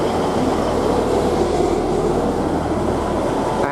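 Northern class 158 diesel multiple unit 158755 rolls into Settle station on the Settle–Carlisle line, a loud, steady rumble of engine and wheels close by throughout, with no speech.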